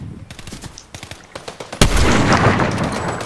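Fortnite gunfire, with a quick string of separate shots and SMG rattles building into a loud, sustained barrage of overlapping shots and blasts near the end.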